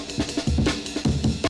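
Amen Break drum loop processed with a sample grit plugin, Sample X3, giving loud, crunchy, lo-fi breakbeat hits that play continuously in a busy rhythmic pattern.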